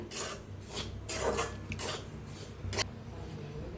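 Semolina roasting in oil in a pan while being stirred with a spoon, producing steady scraping and rasping strokes at close range with a soft sizzle underneath, and no voices.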